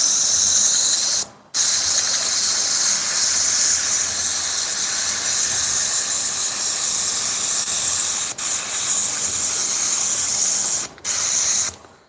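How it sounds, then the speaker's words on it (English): A backed-up airbrush spraying a hoodie gives a loud, continuous sputtering hiss, cut by a few abrupt breaks where the spray stops and restarts. "That's how you can tell your airbrush is backed up."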